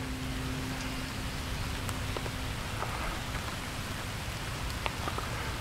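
Steady rain patters on surfaces with a soft, constant hiss, occasional sharper drips and taps standing out nearby.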